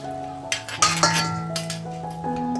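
Blanched pork bones scooped out of a cooking pot, giving several clinks and knocks of bone and utensil against metal in an irregular sequence, close and fairly loud over a low kitchen hum.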